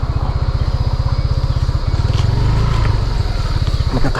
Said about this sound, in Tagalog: Magkakaharang na motor.